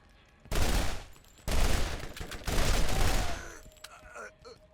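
Bursts of rapid pistol gunfire in the video game Borderlands, three loud sustained volleys with brief gaps, followed by quieter game effects as the shooting dies away.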